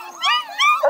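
Coonhound puppies yip and bark in short, high, wavering cries, two or three bursts close together at close range, with no talk over them.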